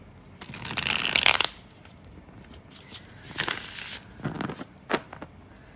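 Tarot cards riffle shuffled by hand: one long crisp rippling riffle close up, then a second riffle with shorter flutters and taps as the deck is squared, no talk.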